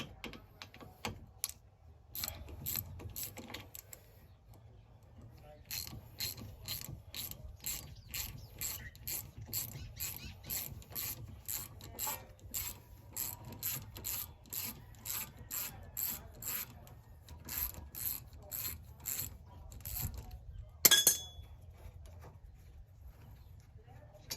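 A ratchet wrench loosening brake caliper bolts on a Honda Element during a brake job, giving long runs of rapid, evenly spaced clicking bursts, close and fairly loud, with a sharper metallic clank near the end.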